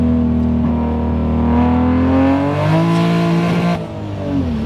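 A 900 hp manual Toyota Supra Mark V accelerates hard, its loud engine note climbing in pitch, dipping briefly at a gear change and then rising again, close and without talk.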